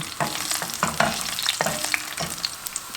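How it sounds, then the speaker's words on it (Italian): Garlic fries in hot oil with a little chili, a close steady sizzle broken by repeated clicks and scrapes of stirring in the pan. "La cosa importante è far friggere l'aglio, che darà tanto sapore."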